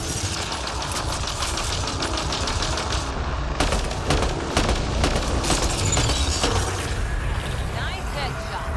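Rapid gunfire from a shooter video game, Mass Effect Andromeda, with bursts of shots and impacts running almost continuously through the scene, loud and dense over a layer of game music and effects.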